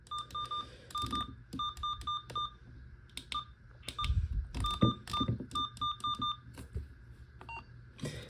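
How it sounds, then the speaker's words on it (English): A Uniden SDS100 scanner sounds short, clean key beeps in quick bursts and single taps as its buttons are pressed, fairly close and moderately loud, with faint handling bumps and rustle in between. "there's a key beep"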